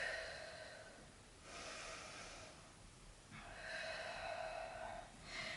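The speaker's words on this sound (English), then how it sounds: "Take some big deep breaths." Deep breathing during a yoga child's pose, with slow, airy inhales and exhales in a steady rhythm, close and quiet, with faint hiss between breaths and no talking.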